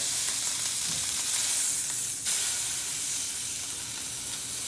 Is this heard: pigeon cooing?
no